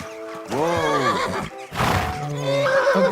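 A horse neighs loudly and close in the video game Kingdom Come Deliverance II, two long whinnies separated by a short gap, with faint hoof clip-clop beneath.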